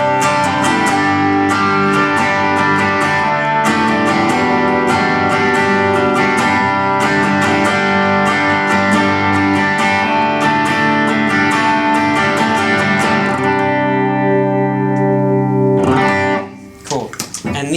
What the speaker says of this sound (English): moving over to the Timmy, that's also like a light overdrive